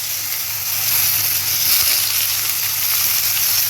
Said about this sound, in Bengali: লাউগুলো সব ছেড়ে দিয়েছি, এবার এটাকে একটু ভাজা ভাজা করতে হবে